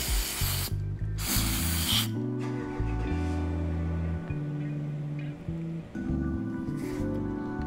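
Short hissing bursts of aerosol cleaner spray onto a Honda Civic idle sensor part, three quiet sprays separated by pauses over a faint low mechanical hum.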